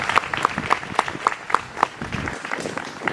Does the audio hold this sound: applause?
yes